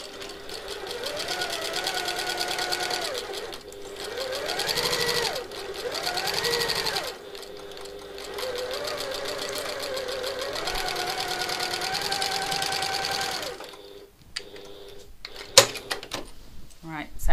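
A sewing machine stitches the lining of a satchel with a steady whirring hum in several long runs broken by brief stops, then clicks and handling sounds near the end.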